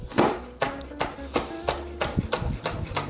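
A knife chops the ends off a vegetable on a cutting board, about ten crisp, evenly spaced thuds close up, with faint talk between strokes.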